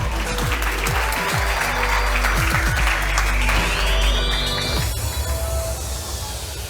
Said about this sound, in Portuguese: Palmas para o Gil, gente.